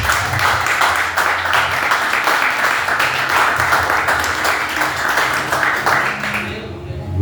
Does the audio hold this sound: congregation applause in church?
yes